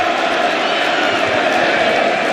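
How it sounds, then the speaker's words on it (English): A cricket crowd at an England v India Test match cheers as Kohli comes in, a loud, dense roar of voices sustained throughout. "You might get a bit of a cheer for this."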